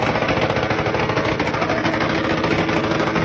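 A motorcycle engine runs loud and rough through a noisy exhaust, a continuous rapid pulsing drone at close range with no pauses.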